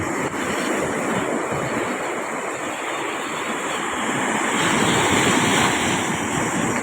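Rough sea waves roll and break along the shore, a loud, continuous roar mixed with gusty wind buffeting the microphone.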